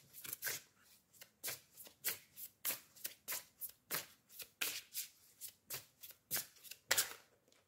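Oracle cards are shuffled by hand, giving a close, soft series of quick riffling and slapping bursts in an even rhythm, with no talk.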